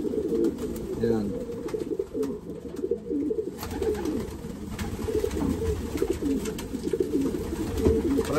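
Pigeons cooing in a breeding loft during young bird season: a soft, continuous, low cooing murmur close by, with someone talking throughout.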